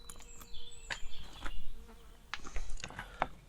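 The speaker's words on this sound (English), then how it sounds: "Couple of mosquitoes knocking around." A couple of mosquitoes buzz close by in short, thin whines around a camping overland vehicle's storage locker, with scattered clicks and knocks alongside them and no talking.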